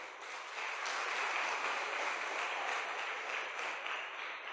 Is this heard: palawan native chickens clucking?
no